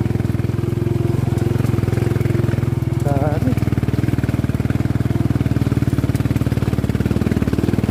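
A motorcycle engine runs hard on a muddy mountain road, a loud, close, steady chugging drone throughout, with a brief voice speaking over it partway through.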